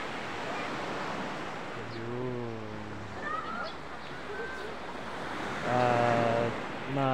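Steady broadband rushing of sea surf on a shore fills the scene, with a person speaking briefly over it at a couple of points.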